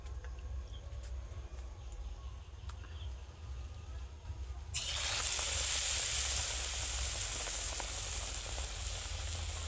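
Eggplant fritters (beguni) dropped into hot oil in a kadai set off a sudden loud, steady sizzle that holds for several seconds after a quieter stretch of low background hum.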